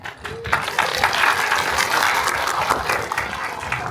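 An audience at a film premiere claps in a sustained, fairly loud round of applause that swells after a brief opening and stays dense and even throughout.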